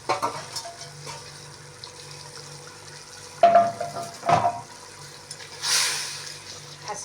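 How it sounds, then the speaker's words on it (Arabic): Chopped onions go into tomato sauce simmering on a gas stovetop, bringing bursts of sizzling and frying with a few clinks and stirring sounds, close by and moderately loud. "هنا بقى يا حبايبي هنزل بالبصل اللي انا فتفته على الصلصة."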